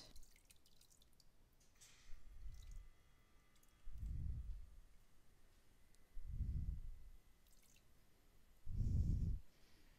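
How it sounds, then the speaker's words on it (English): Lye water mixed with wine poured and strained for cold process soap, heard as soft watery splashes and drips in four separate bursts spaced a couple of seconds apart, close and fairly quiet. "I'm going to go ahead and pour the lye water in and see if I can get it strained and not get any chunks"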